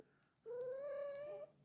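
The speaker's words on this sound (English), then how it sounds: "She always meows at me to give her some." A single cat meows once, a clear drawn-out tonal call lasting about a second, close and fairly quiet, with no talk over it.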